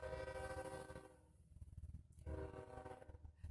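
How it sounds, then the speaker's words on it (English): A train passes close by, its horn sounding in loud, held blasts that break off and come back, over the rumble of the rail cars. "sorry, there's a train"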